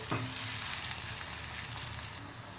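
Thinly sliced onions fry in a pan with a constant, close hiss and a brief clatter at the start, with no voices over the sizzle.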